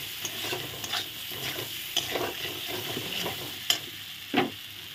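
Coconut milk goes into a sizzling fried masala for a prawn malaikari with potato and is stirred in, giving soft steady frying hiss and scraping spoon strokes.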